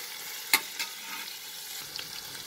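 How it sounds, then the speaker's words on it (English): Dried red chilies sauté in a hot pan, giving a soft steady sizzle with a sharp clack near the start and a few faint stirring scrapes, no voices. "Now we'll saute this for 1/2 minute."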